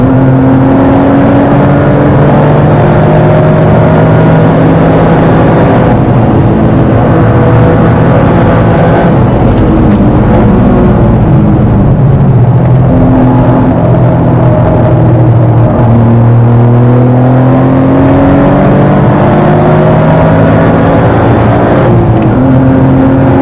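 Mazda MX-5 roadster pulls hard uphill, its engine loud and close, rising in pitch through the gears with brief dips at each shift, revving continuously without speech.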